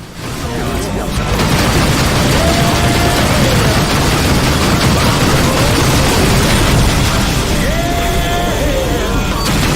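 Missile explosions in the space combat game Rebel Galaxy Outlaw form a loud, continuous roaring rumble of blasts and weapon fire that fills the whole stretch, with a voice talking over it.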